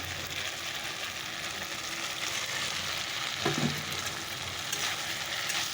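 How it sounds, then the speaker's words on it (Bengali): Soybean chunks sizzle in a spiced masala, a steady hiss of frying with light stirring, close and moderately quiet, with no talk. "তাহলে সয়াবিনটা ছেড়ে দিই"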